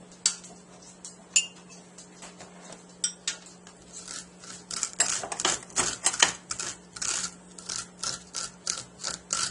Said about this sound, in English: I'm going to use teaspoon. Take a little out of it.